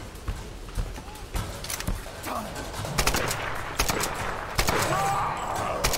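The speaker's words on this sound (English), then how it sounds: "Oh, okay, shotgun time. You're gonna get blasted." Shotgun blasts in the action game Tomb Raider 2013, several sharp loud bangs spaced irregularly across a noisy combat scene, with a voice talking over parts of it.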